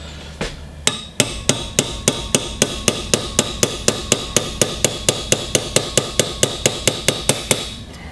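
A hammer drives a brass punch against the slide stop of an SKS rifle, giving a long, steady series of about thirty crisp, evenly spaced metallic taps, close and loud with no speech.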